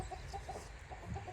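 Farm chickens cluck quietly in a few short, repeated bursts over steady outdoor background noise, fairly distant and faint.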